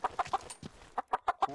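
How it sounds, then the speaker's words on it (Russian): Several short, nasal clucks from chickens come in quick bursts, close by, with a brief pause in the middle before the clucking resumes. "Курочки"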